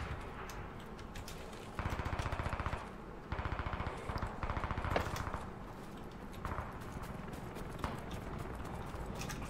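Gunfire in the video game Squad on the Goose Bay map, bursts of rapid automatic shots in several sustained volleys with scattered single cracks, some near and some distant.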